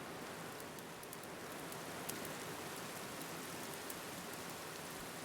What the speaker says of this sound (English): That is a nice rain sound.